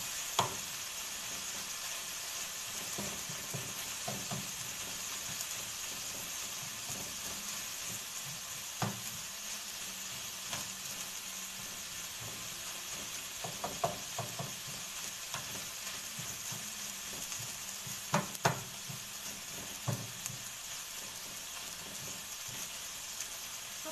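Kefta frying with onion in a pan, a soft, steady sizzle with occasional crackles and pops and a few light stirring clicks, fairly quiet and close.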